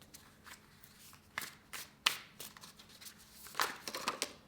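Oracle cards being shuffled by hand during a tarot reading, a series of soft papery riffles and slaps in irregular bursts, close and fairly quiet, with no talking.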